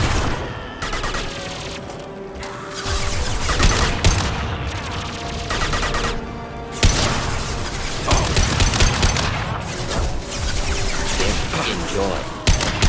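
A Mass Effect 2 battle full of rapid gunfire and explosive blasts, including the concussive shot ability, loud and continuous with sharp impacts and voices talking over the combat.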